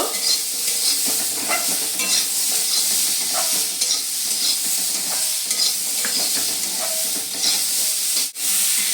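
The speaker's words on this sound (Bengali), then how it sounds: "মটরশুঁটি, দিয়ে এটা আমি নেড়ে ছেড়ে ভালোভাবে" Peas and mixed vegetables frying in a pan for a home-style veg dal, a steady close sizzle broken by repeated scraping stirs throughout, with no talking.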